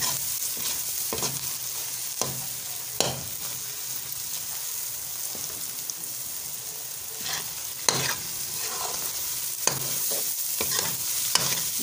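Grated carrot halwa roasting in a pan with steady stirring, a soft continuous sizzle broken by regular scraping and knocking strokes of the spoon, close and moderately loud, with no voices.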